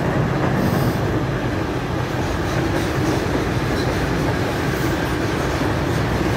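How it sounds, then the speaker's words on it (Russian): A freight train rolls past steadily and loudly for the whole stretch, with a continuous rumble, clattering wheels and faint high squeals, and nobody speaks. "Вот поезд как раз идет грузовой."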